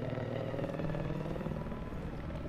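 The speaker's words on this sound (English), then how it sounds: "Chopper. Oh, chopper." A video-game helicopter thrums steadily with a low, pulsing rotor chop and engine drone, fairly close and continuous for a couple of seconds.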